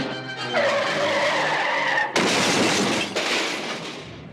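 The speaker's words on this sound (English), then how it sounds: "the killer car, driving right up on the sidewalk, goes out of control" An audio-drama car driving up onto a sidewalk skids out of control, a loud sustained tire screech followed by two abrupt harsh scraping bursts.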